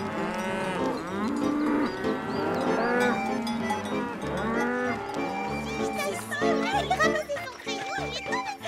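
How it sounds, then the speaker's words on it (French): Cows mooing on a farm in a cartoon scene, with long, sliding bellows overlapping a voice and other chatter, close and fairly loud throughout. "Parfois, c'est elle qui rentrait les vaches."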